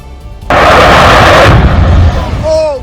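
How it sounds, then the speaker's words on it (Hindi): A large fire at a waste-material factory in Sydney, with a loud sustained roaring blast that surges suddenly, rumbles heavily for about a second, then fades into a lower continuing roar. "आग के साथ हो रहे तेज धमाकों ने लोगों को डरा दिया।"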